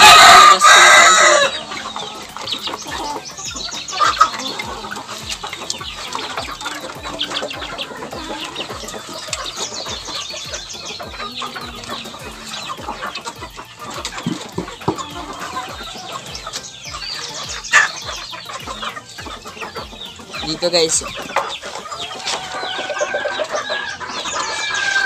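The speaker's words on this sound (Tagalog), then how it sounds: "Ito na yung mga ating mga alagang manok." Domestic chickens kept by a Filipino farmer cluck almost continuously, with a rooster's crow early on, close and fairly loud, while someone speaks briefly over them.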